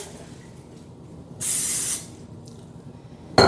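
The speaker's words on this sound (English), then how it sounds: "we'll start with a little spray" A short, loud hiss of aerosol cooking spray lasting about half a second into a slow cooker pot, followed by quiet clatter and a brief second burst at the end.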